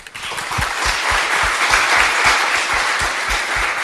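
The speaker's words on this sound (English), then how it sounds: "Let's give a final round of applause." A conference audience at the close of an astrophysics session gives a final round of applause. The clapping is steady and moderately loud, with distinct individual claps heard near the listener.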